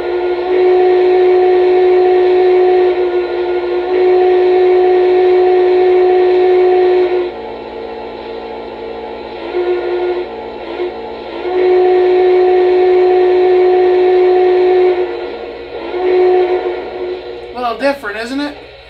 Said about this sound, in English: a quillable whistle, which can be triggered with the SPW soft key on the remote